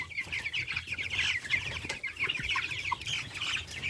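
Many chickens and chicks cluck and chirp together nearby in a coop, a continuous, overlapping chatter, with occasional soft rustling beneath.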